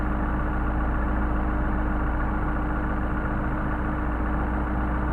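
A Mercedes 190SL engine idles on Solex carburetors with a steady, even low rumble, close and loud, with no voices over it.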